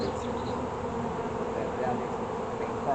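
Honeybees buzzing around a beehive, a continuous even drone with faint individual whines rising above it, close and steady with no pauses.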